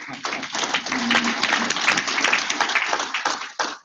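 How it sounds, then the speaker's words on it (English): An audience at a business breakfast applauds for nearly four seconds, the clapping a dense, even patter that swells briefly and then cuts off abruptly. "Y'all give him a big round of applause."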